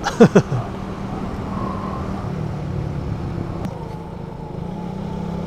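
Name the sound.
motorcycle riding on a mountain road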